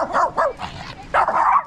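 A dog barks several times in quick succession, close and loud, the barks short and slightly yelping.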